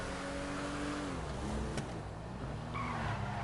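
A loud modded car engine in GTA 5 Online revs and shifts pitch with tires squealing, a continuous roaring exhaust tone up close.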